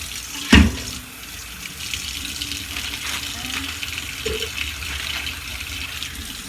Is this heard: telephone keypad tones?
no